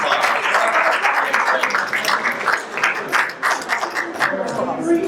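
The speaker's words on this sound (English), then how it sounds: "Give them a big round of applause." An audience at a town candidate forum gives a round of applause, a steady, fairly loud wash of many hands clapping that holds for several seconds with voices underneath.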